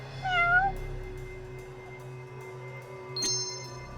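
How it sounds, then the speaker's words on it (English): A cat in the video game Judgment gives two clear, close meows, one at the start and a shorter one near the end, over quiet ambient game background. "Oh look, a cat!"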